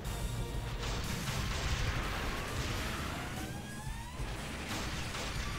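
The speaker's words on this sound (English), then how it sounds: "I just got the heavy machine gun" Heavy machine gun fire from the arcade game Metal Slug 3 rattles continuously in a dense, loud barrage. Explosions and other battle effects mix in at a fast, unbroken rhythm.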